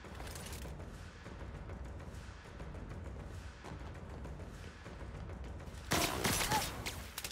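Sustained automatic gunfire in The Outer Worlds, with dense, continuous bursts that swell into a louder, sharper volley near the end.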